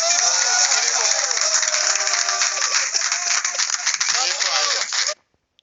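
Enthusiastic audience applause with clapping, cheering and voices mixed in, loud and continuous before cutting off abruptly.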